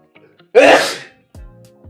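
A single loud, close sneeze bursts out after a quick inhale, followed by brief murmured voices.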